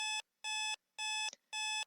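An alarm in the game Sally Face sounds four loud, even electronic beeps in a steady on-off rhythm, bright and close, with nothing else heard.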